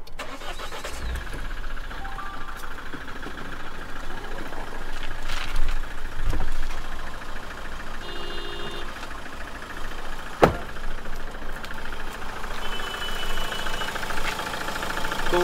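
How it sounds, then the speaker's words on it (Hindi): A used diesel car engine starts and settles into a steady idle, a continuous mid-pitched rumble running throughout with a few sharper clicks and knocks along the way, fairly close and without talk. "तो इंजन स्टार्ट करने के बाद इंजन को 5 से 10 मिनट आइडल पे रनिंग रहने दीजिए"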